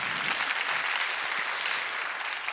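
Dense, steady applause from an audience at a Korean economic concert on youth, a broad wash of many hands clapping at even loudness throughout.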